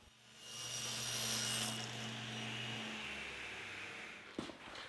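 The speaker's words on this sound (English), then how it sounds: "I've set the table saw to 35 degrees, and now I'm making the French cleats." A table saw set to 35 degrees rips wooden French cleats, a steady whirring cut that builds, holds for a few seconds and winds down, ending with a brief knock.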